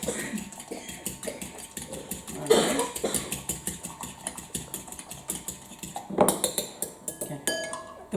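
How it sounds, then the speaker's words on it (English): An egg being whisked in a bowl: a rapid, steady run of light clicking and tapping strokes, close by, with a couple of louder clattering moments partway through. "Give that a whisk. So it all becomes one."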